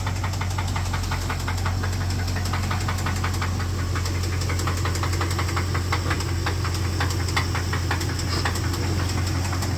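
A Hemi engine running with a knock, a steady close idle with a rapid, regular metallic ticking and knocking over a low hum, continuous and unchanging, with no voices.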